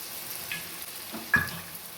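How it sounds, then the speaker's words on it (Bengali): Gram flour slurry is stirred into a simmering gravy for a bitter gourd dish: a faint, low sizzle with a single soft scrape or thud of the spoon, close and quiet. "এই গ্রেভির মধ্যে আমি বেসনটা দিয়ে দিচ্ছি"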